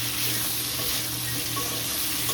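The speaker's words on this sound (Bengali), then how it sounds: "আর এই পাশে বসিয়েছি কুমড়ো ভাজা," Pumpkin slices fry in oil with black cumin and green chilli in a home kitchen, giving a steady, soft sizzle that continues evenly without any talk.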